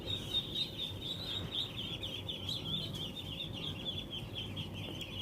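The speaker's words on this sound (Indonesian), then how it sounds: "Ini bebek umur 4 hari atau 5 hari." A crowd of four- to five-day-old ducklings peeps in a constant, overlapping chorus of high, shrill cheeps, close and steady throughout.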